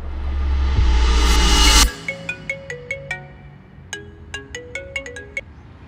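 A phone rings with an incoming video call, a bright repeating melodic ringtone of quick plucked notes in short phrases, loud and close after a brief burst of dense noise.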